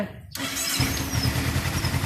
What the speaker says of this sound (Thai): อ่ะครูสตาร์ทเครื่องแล้วนะ